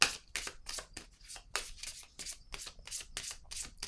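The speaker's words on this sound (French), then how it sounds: "Continuons, je vais piger une autre carte ici." Playing cards drawn and slid from a deck during a reading, a run of close, crisp papery swipes and flicks in quick irregular succession, with no talk.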